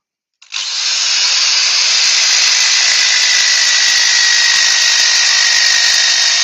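Power sanding of a natural edge wooden bowl at 80 grit, a drill-driven abrasive starting abruptly and then holding a loud, steady close hiss and whir with no pauses.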